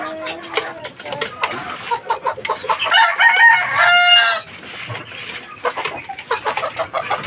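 Fighting roosters crowing and clucking close by, one long crow standing out amid repeated clucks, with people talking in the background.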